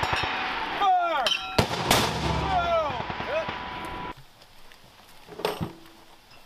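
Mortar rounds fire during military live-fire training at Camp Ripley, with loud booming launches and rolling echoes across the range, followed by a quieter stretch and another distant thump.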